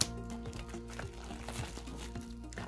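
A plastic packet of Garbage Gang trading cards being cut open, with soft crinkling and rustling of the wrapper, close and quiet.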